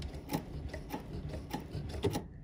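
A BERNINA sewing machine fitted with a button sew-on foot stitches a button in place, producing a quick run of soft mechanical clicks and rubbing taps at close range with no talking.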